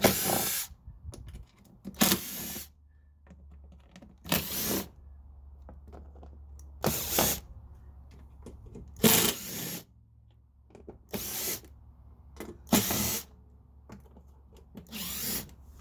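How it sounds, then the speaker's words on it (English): A power driver fitted with a Phillips bit backs bolts out of a floor panel on a Gio Titan, sounding as a series of about eight short, loud whirring bursts separated by quiet gaps. "Now I'm going to use a Phillips bit to remove 8 bolts on this floor."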